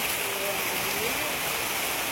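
Heavy monsoon rain coming down hard, a thick, unbroken rushing hiss like running water, loud and near throughout.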